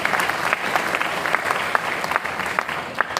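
Sustained, dense clapping from a live audience at a Hindi patriotic poetry recital (kavi sammelan) for Independence Day, steady and fairly loud throughout with scattered sharper claps standing out.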